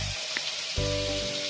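Butter hitting a hot pan for a Burmese chicken curry, a steady crackling sizzle that continues throughout with no talk over it.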